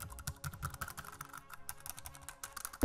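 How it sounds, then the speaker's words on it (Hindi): Someone types a one-time passcode on a computer keyboard while submitting a pension life certificate online: a quiet, steady run of quick key clicks, close by and alone. "तो मैं अभी OTP टाइप कर देता हूँ।"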